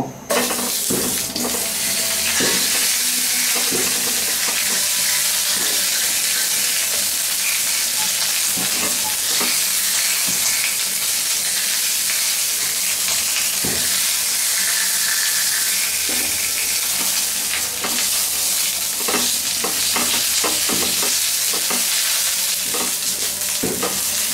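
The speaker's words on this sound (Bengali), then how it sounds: "ইলিশ মাছের মাথা দিব" A hilsa fish head fries in hot oil with cumin seeds and bay leaf, a steady loud sizzle filling the whole stretch while a utensil repeatedly scrapes and stirs the pan.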